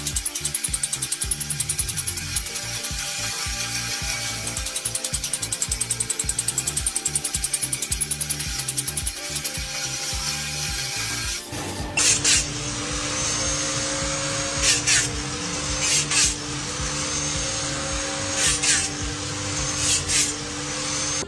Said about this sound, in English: A machine engineered for high-speed chain production, using cam-driven precision to bend, cut, and shape wire into perfectly interlocking links.